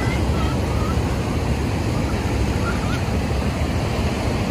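A continuous loud roar of surf along the Baler boulevard in Aurora, Philippines, fills the clip, a dense wash of strong breaking waves with wind noise and no distinct voices.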